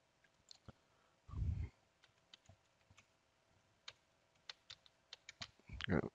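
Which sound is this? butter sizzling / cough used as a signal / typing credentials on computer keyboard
typing credentials on computer keyboard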